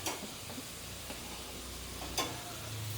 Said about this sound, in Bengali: চাউমিনটা দেওয়া হলো, এবারে এটা কিছুক্ষণ নাড়াচাড়া করা হবে।